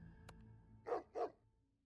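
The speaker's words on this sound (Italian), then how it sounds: "un grosso cane emerge dall'oscurità, latrando ferocemente" Large dog barking ferociously, a board game sound effect: two loud, close barks in quick succession after a brief faint click, with quiet background otherwise.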